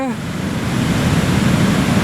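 Water released from a dam rushes downstream below a lookout, a loud, steady roar of churning flow that holds even from start to end, with a brief voice at the very beginning.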